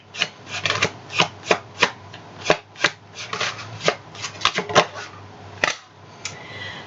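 Tarot deck being shuffled by hand, a steady run of crisp riffling card snaps repeating roughly twice a second, close and fairly loud with no speech over it.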